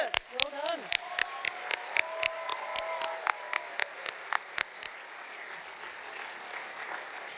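Sharp individual claps ring out one after another at a graduation ceremony, then blur into a broader wash of applause from a large audience as talk fades beneath.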